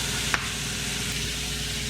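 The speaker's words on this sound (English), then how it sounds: "You wanna hear the sizzle." Onions sizzle in hot olive oil in a pan, a dense, steady frying hiss throughout with a single brief clink near the start.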